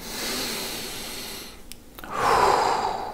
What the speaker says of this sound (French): vous prenez une grande respiration